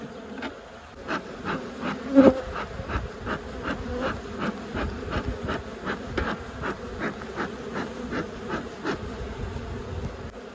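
Many honeybees buzz close by around a rural hive in a dense, steady drone, with faint rhythmic ticking beneath and no talking.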